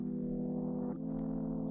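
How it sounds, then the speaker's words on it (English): Gritty, dark sampled keys from an OP-1 synthesizer hold a steady sustained chord that shifts once partway through, soft and alone. "a keys sound that I sampled from my OP1"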